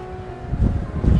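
Gusty wind buffets a microphone on the coast near a harbour at Dover, a low rumbling roar that swells louder in bursts, with no talking.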